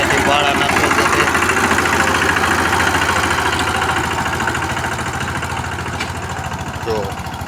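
A farm tractor engine idles nearby with a steady, rumbling mid-pitched drone and a faint knock, holding an even level throughout with a slight fade toward the end.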